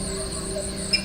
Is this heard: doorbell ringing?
no